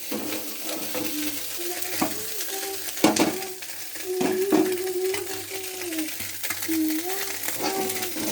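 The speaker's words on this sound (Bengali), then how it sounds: "কি সুন্দর করে আমি ভেজে নিচ্ছি" Steady crackling sizzle of small fish frying in hot oil, with occasional clinks and scrapes of a utensil stirring in the pan, close and continuous.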